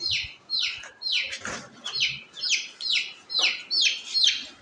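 Young chicks, one being treated for paralysis, peep close and loud in a steady series of about nine high, falling calls, one roughly every half second, with no other sound.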